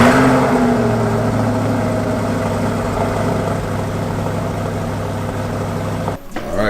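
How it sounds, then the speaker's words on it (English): An American muscle car engine running through its stock German exhaust, a steady close idle drone with a throaty low rumble held evenly for several seconds before a brief dip near the end, with no talk. "this is the stock German exhaust. Hear the difference."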